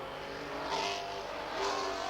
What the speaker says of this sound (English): But it's Alan Grice with the big 5-litre Holden that keeps them in sight.